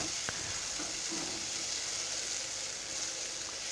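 Spice paste sautéing in hot oil in a pan while cooking a spicy village-style potato rassa curry, a steady close sizzle and hiss with occasional faint stirring scrapes, no one talking.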